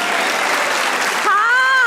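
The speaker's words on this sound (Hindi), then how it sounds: "इसके लिए मैं तालियां देना चाहूंगा।" An audience applauds in a dense, steady burst of clapping on a comedy talk show, and a voice begins speaking over it near the end.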